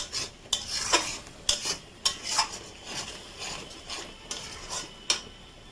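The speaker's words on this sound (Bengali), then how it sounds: "আদা রসুন আর লঙ্কা পেস্টটা দিলাম" Ginger, garlic and chili paste sizzles softly in a pan while a utensil scrapes and clacks against the metal in repeated, irregular strokes, close and distinct.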